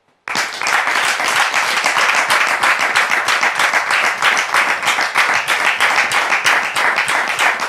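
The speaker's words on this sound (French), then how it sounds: "je voudrais demander au public de la recevoir ici maintenant sous vos applaudissements" A talk show studio audience bursts into sustained applause to welcome a guest, loud, dense clapping starting abruptly after a moment of silence and continuing steadily throughout.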